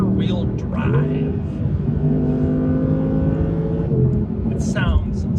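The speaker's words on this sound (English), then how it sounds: "All right, driving the 22 R8 rear-wheel drive." A 2022 Audi R8 rear-wheel-drive V10 drives on the road, its engine droning steadily from inside the cabin and rising and falling through the revs while a person talks over it.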